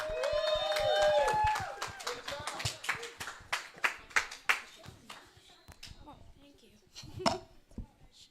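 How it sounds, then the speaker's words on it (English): Audience clapping for two participants at a youth talk show: a burst of scattered, uneven claps that thins out into a few loud, isolated claps, mixed with some chatter. "Clap for Jinbei and Gage, everybody."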